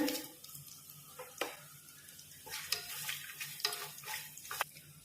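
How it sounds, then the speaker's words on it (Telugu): Whole biryani spices such as fennel and shahi jeera crackle in hot oil in a pot, quiet frying with several sharp clinks and stirring scrapes against the pan, close and intermittent. "ఆయిల్ వేడయ్యాక ఈ బిర్యానీ హోల్ మసాలా అన్నీ కూడా వేసుకోవాలి"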